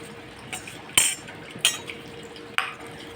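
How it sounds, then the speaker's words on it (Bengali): A spoon clinks and scrapes against a metal bowl while stirring milk and flower petals into ghee for panchamrit; a few sharp, bright taps stand out over a quiet background. "এখানে দুধ, ফুল এগুলো সব আমি মিশিয়ে দিচ্ছি।"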